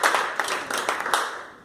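A church congregation claps during a sermon, a close run of sharp, uneven hand claps that fades out toward the end.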